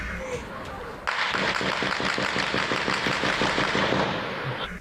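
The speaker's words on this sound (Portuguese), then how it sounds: "Rajadas de tiros por toda parte." Rapid bursts of automatic gunfire crackle during a night-time gang war in the Morro dos Macacos favela in Vila Isabel, Rio de Janeiro, with one sustained volley of closely spaced shots ringing out loud and near.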